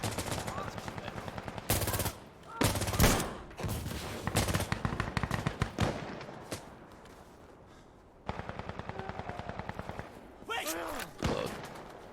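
A video game gun with a 30-round magazine fires automatic bursts, rapid even rattles in several runs separated by short pauses and louder single blasts, with talking at times.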